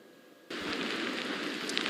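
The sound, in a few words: wind and rain during Hurricane Francine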